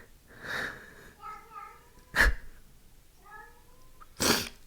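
A pet cat lets out several drawn-out meows close by, between which someone talks softly and a couple of sharp breathy bursts cut in.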